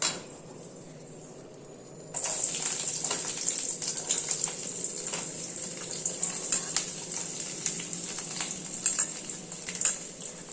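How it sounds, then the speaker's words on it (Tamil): Chillies, onion, tomato and ginger hit hot oil for a chutney, a steady loud sizzle erupting after a quiet start and crackling on with sharp spits and pops, no voices. "இப்போ நம்ம மிளகாய் வறுத்துட்டு அதை கூடிய வெங்காயம் தக்காளி இஞ்சி எல்லாம் போட்டுக்கலாம்"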